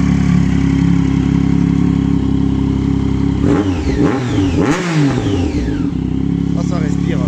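A converted van's engine runs loud and close after a hard start, idling roughly and then revving up briefly in the middle before settling back to a steady rumble.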